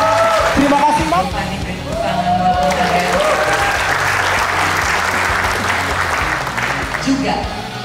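Sustained applause from an audience at a sales leadership event, loud and continuous for several seconds, with an announcer's amplified voice speaking over it.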